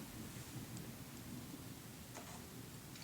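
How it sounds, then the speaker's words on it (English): Low rumbling thunder rolls steadily in the background during a storm, a broad continuous murmur with faint rain-like hiss and no voices. "you'll have to excuse the thunder in the background"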